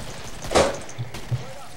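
Gunfire in the video game Killing Floor, a sharp burst of shots followed by a couple of fainter thumps, heard against a low, steady game background.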